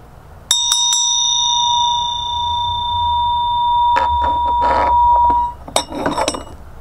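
A mindfulness bell rings, a couple of quick bright strikes followed by a long clear ringing tone, with a later cluster of lighter clinks and strikes.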